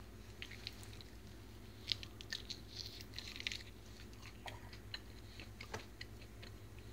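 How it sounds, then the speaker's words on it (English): Close, moist chewing of cubanelle pepper seeds, with irregular small crunches and clicks over a low steady hum and no talking. "I'm chewing on the seeds and there's no heat"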